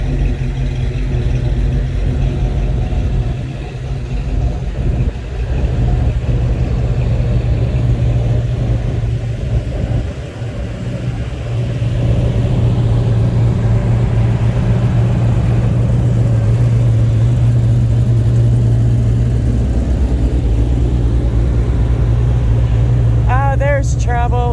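Car engines rumbling and revving at an outdoor car show, a loud continuous low drone with swelling revs, with voices in the background.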